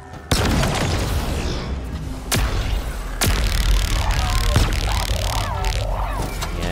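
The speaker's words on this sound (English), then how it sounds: "He's shooting me while I'm shooting him." Gunfire exchange in Halo Infinite's Nexus mission, with sharp bursts and booms from sentinel beam and shock rifle fire trading back and forth, a steady dense barrage with several loud impacts.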